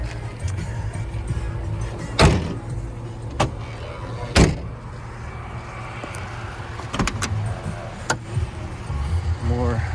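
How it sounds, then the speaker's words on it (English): Rear door of a converted four-wheel-drive Chevy G20 van being opened, with two sharp latch clunks followed by smaller clicks and rattles over a low steady hum, close by. "This is to open the door in the back."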